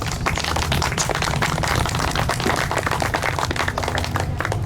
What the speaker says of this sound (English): let's give a big round of applause to Jim Sawgrass.